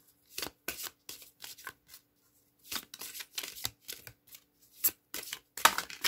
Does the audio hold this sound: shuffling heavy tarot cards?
yes